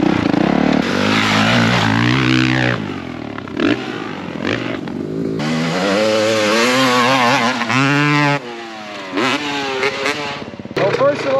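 Motocross dirt bike revving hard with heavy wheel spin into a hill jump, a loud close engine climbing and falling in pitch through repeated throttle bursts with brief cut-offs, and a voice heard partway through.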